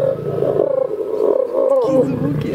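Lions growl and roar during mating, loud and close, in one continuous, deep, rumbling call that rises and falls.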